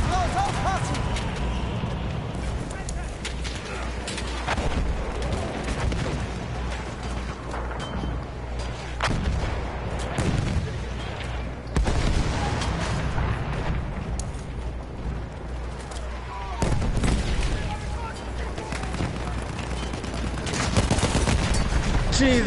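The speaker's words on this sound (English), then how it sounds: "how many mortars can you have on one team, bro?" Battlefield 1 combat rumbles with mortar and artillery fire: dense, continuous gunfire and booming blasts layered over a low drone, with occasional heavier impacts and talk mixed in throughout.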